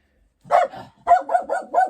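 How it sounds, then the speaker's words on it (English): A dog gives a series of close, clear barks indoors: one bark, a short pause, then a quick run of four or five barks in an uneven rhythm. "I think you just like to bark, don't you?"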